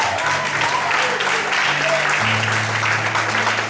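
A church congregation claps together in a dense, steady burst of applause, with a few voices rising underneath.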